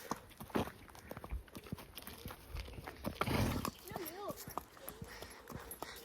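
Pony hooves walking on a path toward a field, soft irregular thuds and clops under nearby French speech, with some outdoor rustling.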